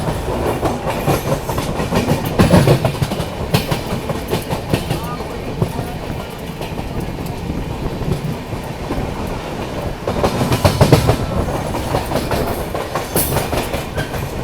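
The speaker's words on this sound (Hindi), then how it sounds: "ट्रेन अभी अपनी पहुंच गई है दानापुर रेलवे स्टेशन।" The Poorvottar Sampark Kranti train runs through Danapur station without stopping, heard from on board as a loud, continuous rumble with rhythmic clickety-clack of wheels over rail joints, swelling in bursts, while a voice talks over it.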